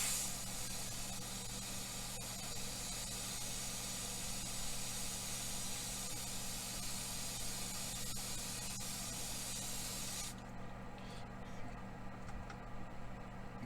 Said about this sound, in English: This is what we're going to spray the engine parts.